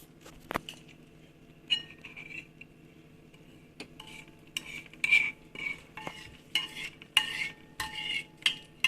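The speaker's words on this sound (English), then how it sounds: "and then we mix the food flavoring and noodles together" Noodles mixed with flavouring in a bowl, giving soft, irregular scraping and clinking of a utensil that grows busier toward the end, quiet and close.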